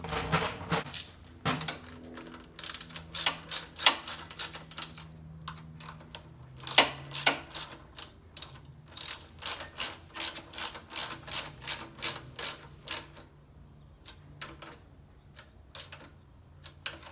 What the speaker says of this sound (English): we can go ahead and tighten these nuts back down